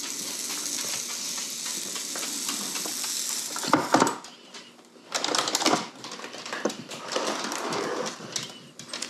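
Waffle batter cooking in a waffle iron gives a soft sizzle and hiss with bursts of steam and faint clatter, close by and without talk.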